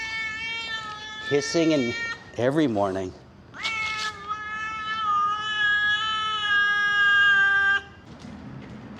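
Stray cats in a Bangkok park meow loudly and close in long drawn-out cries, several in a row, with a person speaking briefly between them.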